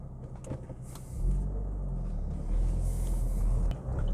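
A 2012 Opel Astra OPC pulls away, its engine building to a steady low rumble heard from inside the cabin, with no talk.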